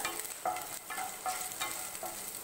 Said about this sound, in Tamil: இப்போ கடலைப்பருப்பு நல்லா வறுபட்டுருச்சு